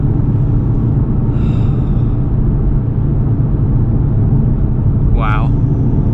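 A Stage 2 MRC-tuned Audi RS3 on a mountain drive, its engine and road rumble heard from inside as a loud, steady drone that holds level throughout, with a couple of faint brief higher tones over it.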